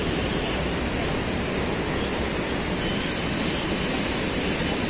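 High sea waves along the shore at Alexandria, Egypt, a steady, dense roar of surf with no breaks, loud and constant throughout.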